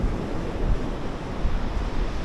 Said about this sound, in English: Surf's a little rough out here.